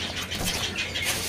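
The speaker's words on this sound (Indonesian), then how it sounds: "ini ada burung cak timur yang sudah gacor ya" A cak timur songbird at the Pasar Pramuka bird market sings in a busy, bright chirping stream, close and steady over a noisy market background.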